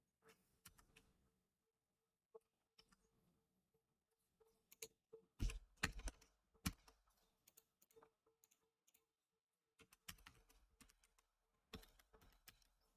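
Bursts of clicky computer-keyboard typing, close and fairly quiet, in irregular clusters of quick keystrokes separated by short pauses, louder flurries in the middle and near the end.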